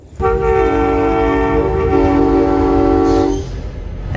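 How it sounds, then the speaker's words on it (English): A locomotive rolls toward the listener at 20 mph on railroad tracks, producing a loud, steady, droning tonal roar over deep rumble that holds for about three seconds, then eases slightly. "railroad veteran Christopher Whitley throttling this locomotive towards us at 20 miles an hour with no horn or bell"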